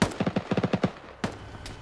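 Machine gun in a military video game fires rapid bursts of about nine shots, then a pause and two more separate shots, loud and close with no voices.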